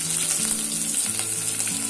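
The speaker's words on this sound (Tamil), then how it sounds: "கறிவேப்பிலை இதெல்லாம் சேர்த்து நல்லா வதக்கிடலாம்" Curry leaves, crushed garlic, dried red chillies and cumin sautéing in hot oil for a Bombay chutney, giving a steady close sizzle with faint stirring scrapes throughout, no voices.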